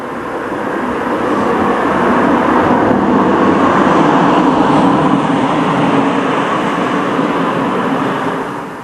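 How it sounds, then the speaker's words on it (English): Cars pass at night near a cemetery and sports ground in Hebburn, a broad steady rushing roar that swells up close, holds for several seconds and fades away, with no talk. "there's still cars passing at this time of night"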